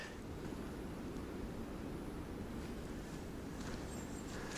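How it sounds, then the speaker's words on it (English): Wind rushes over a mountain ridge on a forest trail, a steady broadband roar that hums like distant highway traffic, constant and unbroken with no voices. "what sounds like a highway is the wind coming over the mountain"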